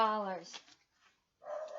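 A small dog gives a short yappy bark that overlaps a voice, followed by a brief pause and another faint yap in an indoor room.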